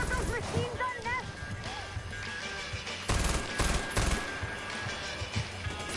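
Machine gun nests rattle off gunfire in Far Cry 4, scattered bursts and a louder volley mixed into busy game sound, with voices talking over the shooting.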